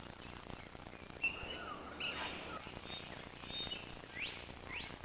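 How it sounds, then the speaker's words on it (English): Blue bird of paradise calling in a New Guinea forest at early morning: a few faint, thin whistled calls and upward-sweeping notes scattered over soft, hissy woodland ambience, distant and sparse. "This is a blue bird of paradise."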